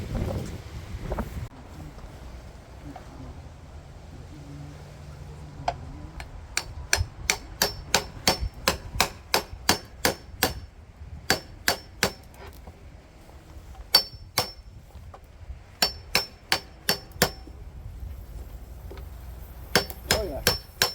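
A galvanized nail is hammered into the side of a solid-state rack battery, heard as a steady run of sharp, ringing metallic strikes up close, coming in quick bursts with brief pauses between.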